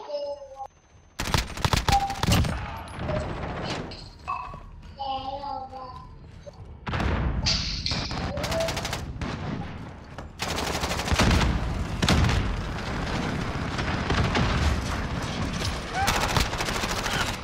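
Rapid bursts of gunfire from a first-person shooter video game, loud, repeated broadband cracks mixed with game effects, dense and continuous after a quieter opening.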